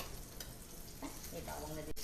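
Steak frying in butter in a pot, a steady close sizzle with faint stirring and a brief rise near the end, no talk over it.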